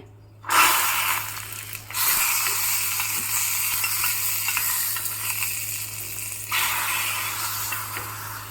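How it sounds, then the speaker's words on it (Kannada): Loud, steady sizzling of spices dropped into hot ghee for tempering, hissing strongly after a sharp start, with a second surge of crackle near the end. "ತುಪ್ಪ ಹಾಕಿದ್ದೀನಿ ಹಾಕಿಬಿಟ್ಟು ಒಗ್ಗರಣೆ ಹಾಕ್ತಾಯಿದ್ದೀನಿ"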